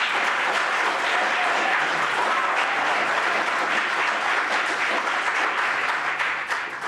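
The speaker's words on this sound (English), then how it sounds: "Let's keep our encouragement just to the end, okay, please, on the clapping." Steady, full audience clapping fills a city commission meeting room, sustained applause from many people that holds evenly for several seconds before thinning slightly at the end.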